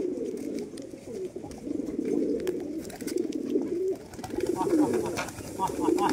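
Lotan pigeons cooing in a steady, continuous low warble that swells and fades in overlapping waves, close and moderately loud, with no talk over them.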